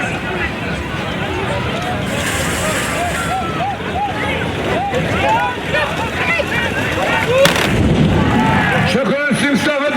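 A gunpowder musket volley bursts as one sharp blast at a tbourida horse festival, the Moussem of Moulay Abdallah Amghar, amid a loud crowd with voices, shouting and ululation throughout.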